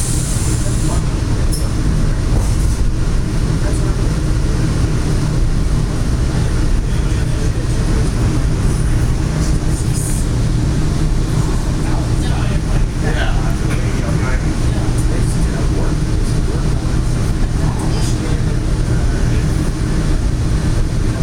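Metra Electric commuter train heading into Millennium Station in Chicago, heard from inside as a loud, continuous rumble and rattle of wheels on track, with a voice talking occasionally over the steady roar.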